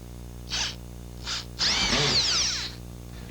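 A screw gun driving drywall screws into framing: two short whirring bursts, then a longer loud whine as a screw is run home, all close and without talk.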